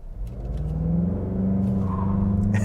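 A 2023 Mazda CX-50 SUV launched hard from a brake-torque start with its front tires spinning; a loud, steady engine roar builds and holds close by for the whole stretch, with no voices.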